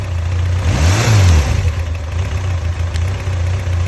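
An engine, just synchronized, idles and then rises smoothly in a single progressive rev before settling back to a steady, close idle with a slightly uneven, knocking edge.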